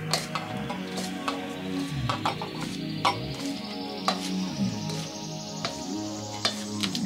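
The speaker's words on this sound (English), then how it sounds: "So you want to give all that a big old mix." Kimchi ingredients tossed together by hand in a bowl, giving a steady wet squelching and rustling with a few sharp clicks and taps, close and moderately loud, no talking.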